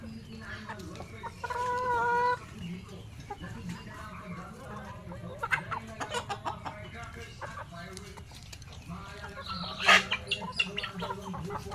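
Chickens cluck and crow on a chicken farm, including black native chickens kept in coops, with scattered calls and a louder squawk near the end while a person talks nearby.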